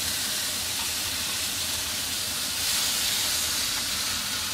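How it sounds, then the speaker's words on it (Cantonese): A crab with its shell down sears in a very hot pan, giving a continuous, fairly soft sizzle and steamy hiss that swells slightly partway through, with no voices. "咁我呢邊又煎一煎佢咯"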